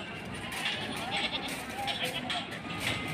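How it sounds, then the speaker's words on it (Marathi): Goats bleat repeatedly at a busy livestock market in Bori, the calls rising over steady crowd chatter and nearby voices. "मस्त शेळी आहे बघा"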